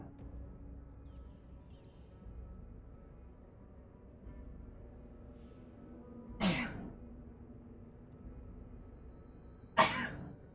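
Two sharp, loud sneezes burst out about three seconds apart against a quiet room hum, close to the microphone.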